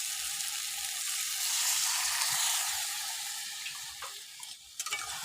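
Water goes into hot oil in a pan of poi saag (Malabar spinach) raita made with sour curd, giving a steady, fairly close hiss and sizzle with faint stirring, which tapers to a few sputters at the end.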